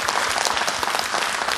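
An audience at a Korean volunteer-service award ceremony, the 2014 Lions Service Awards, claps continuously in a dense, even burst of applause filling the hall.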